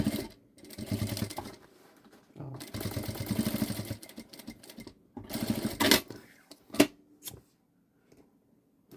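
Short bursts of a home sewing machine stitching the front of a fabric clutch bag, with pauses between runs and handling clicks, fairly close and moderately quiet.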